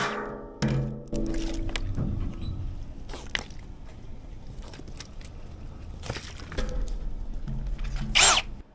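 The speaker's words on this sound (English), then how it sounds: "Amazing what a sharp drill does." Freshly sharpened drill bit boring into work-hardened stainless steel in a workshop, heard as short bursts of drilling and grinding with pauses between, fairly quiet and close, ending with a brief sharp squeal.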